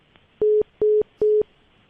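A telephone line gives three short, even electronic tones with brief gaps between them, loud and clear against quiet, as the phone redials a number.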